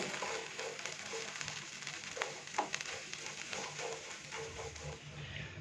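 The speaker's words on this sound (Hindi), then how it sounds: "चनों को हमने मीडियम फ्लेम पे तकरीबन 4 से 5 मिनट के लिए फ्राई कर लिया है।" Chickpeas fry in a pan over a medium flame, a faint, steady sizzle broken by small crackles and pops, with no one talking.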